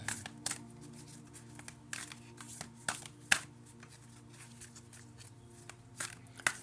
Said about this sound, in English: I'm going to shuffle this a little differently